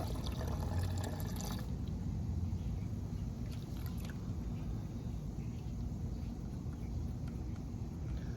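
Fluid runs steadily out of a Honda Goldwing GL1500 Interstate motorcycle into a container, a continuous near pouring trickle with a brief stronger splash at the start, no talk.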